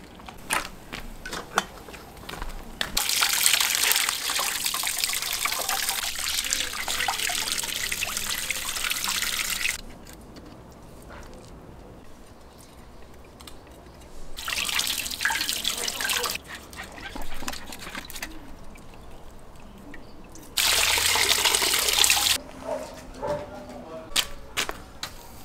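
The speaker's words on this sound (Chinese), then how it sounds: "这猪头已经焯到水了，然后把它捞出来清洗一下。" A blanched pig head is rinsed under running tap water, heard as three loud bursts of gushing, splashing water separated by quieter pauses with small clatters.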